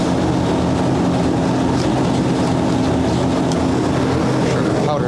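A powder coating gun sprays a heavy coat of powder onto wheel rotors with a constant, loud hiss and rush of air. The sound stays steady throughout, with a little faint clatter near the end.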